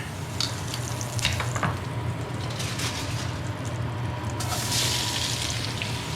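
Onions sizzling in a pot roast pan, a steady close frying hiss with scattered crackles and stirring scrapes, growing a little brighter toward the end.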